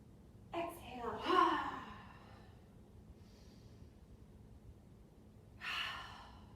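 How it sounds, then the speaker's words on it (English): A child's yoga class with loud, breathy exhales voiced as a "ha", two strong puffs close together early on, then a long pause and another forceful exhale near the end. "Exhaling with a loud ha."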